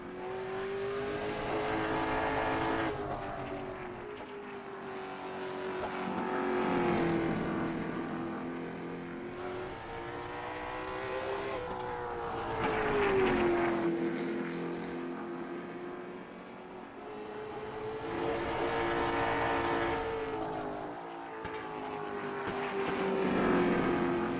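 Sim race cars lap Langley Speedway in a Gulf Coast Sim Racing event, engine tones rising and falling in a repeating cycle through the corners, a loud continuous drone with swelling accelerations every few seconds and no voices.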